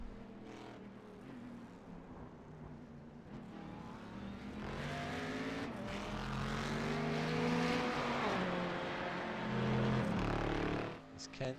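GTE/GT1 race cars in an iRacing simulation of Le Mans roar past through the curves. Engine drones rise and fall with shifting pitch and swell into a loud passing peak, while a commentator talks over them.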